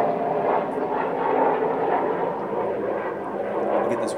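An airplane flies overhead with a steady, continuous broadband engine roar at moderate distance that swells slightly and then holds evenly, with no talking.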